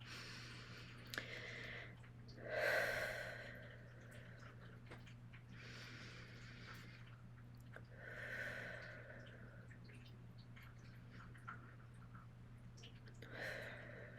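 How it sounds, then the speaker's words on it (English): Three slow, deep breaths in and out, taken during a calming exercise; each soft, airy breath swells and fades, evenly spaced and close, with steady hum beneath and no talking. "Just take 3 deep breaths in."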